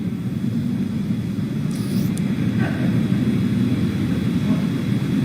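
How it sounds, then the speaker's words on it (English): SpaceX Falcon 9 first stage with Merlin engines throttling down, heard as a continuous deep roaring rumble with a dense low-frequency hiss, steady and loud throughout with no voices. "We heard we're throttling down the Merlin engines on the first stage."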